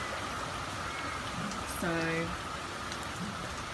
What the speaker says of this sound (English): Here comes another lot of rain that's just pouring down.